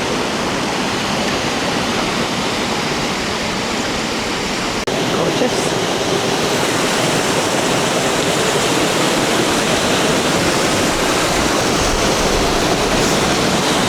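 A waterfall on the Thirlmere route up Helvellyn roars steadily and loudly nearby, a dense, constant rush of falling water that swells slightly louder partway through.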